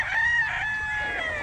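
A rooster among banded stag chickens gives one loud, near crow, its drawn-out call wavering over low farmyard noise.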